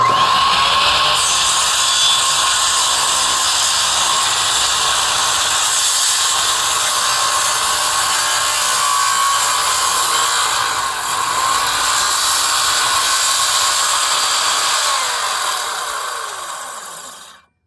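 A power saw blade cuts steadily through a wooden deck stair riser, a loud sustained whine with a brief dip midway, running nearly continuously until it tapers off at the end.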